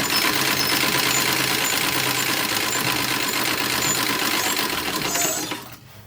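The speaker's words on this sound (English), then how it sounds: "So I like to use this machine for 1940 stuff because it's a treadle and it goes fast." A fast-running treadle sewing machine stitching pieces of a 1940s dress, a dense continuous mechanical whir and rattle, close and loud, that winds down and stops near the end.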